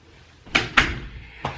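A door pushed closed, a few quick knocking thuds and a sharp latching bang close by, with no other sound.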